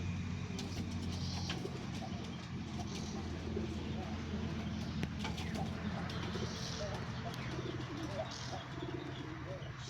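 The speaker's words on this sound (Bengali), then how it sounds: "এটা জালালি কবুতর যেটা ডাকতেছে।" A Jalali pigeon coos among other farm birds, with chirps and a passing car mixed into a steady outdoor background, and people talking over it.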